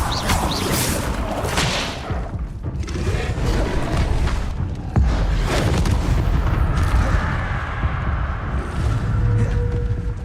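Spell effects from Hogwarts Legacy burst out in loud booming whooshes and crackling blasts, dense and overlapping, one impact after another with no pauses.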